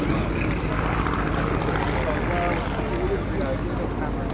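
A Boeing P-26 Peashooter, a pre-war US Army Air Corps fighter, drones past in a display pass at the Flying Legends 2014 airshow, a steady engine roar mixed with wind and crowd noise while a commentator talks over it.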